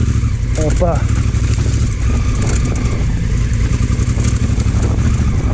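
A motorcycle engine rumbles steadily and close by at riding speed, with someone talking over it throughout.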